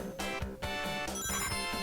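Mobile phone ringtone going off indoors, a bright melodic tone pattern repeating through the moment with no talking.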